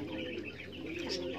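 Small pigeons give soft, low coos, a brief close-up burst of bird calls with a few light chirps mixed in.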